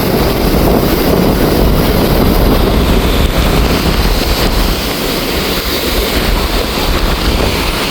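Stormy sea waves crash on the shore at Keerimalai near Jaffna in a loud, continuous roar of surf mixed with heavy wind buffeting, with no voices.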